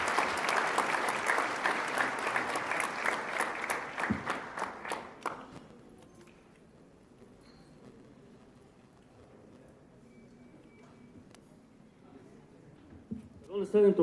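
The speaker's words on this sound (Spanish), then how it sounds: "vamos a darle un fuerte aplauso, por favor, y agradecerle su presencia" A seated audience at a CFE event on PCB destruction claps for Sergio, brisk applause that tapers off after about five seconds into quiet room tone, with faint talk and a louder voice near the end.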